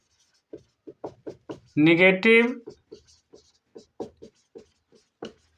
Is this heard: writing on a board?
yes